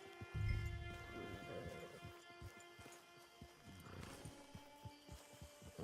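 A horse in the video game Red Dead Online snorts and neighs, then its hooves clip-clop in a steady, moderately close rhythm over quiet ambient game sound.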